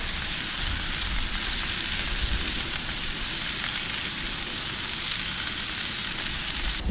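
Smash burgers sizzle on the griddle of a Monument Eminence 605 gas grill, a loud, steady frying hiss that runs unbroken and close throughout with no talking.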